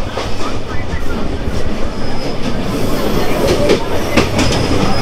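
The Rupshi Bangla Express rumbles steadily along the tracks between Benapole and Dhaka, with a constant low roar and faint rhythmic clatter of wheels, heard close from inside a chair-class carriage.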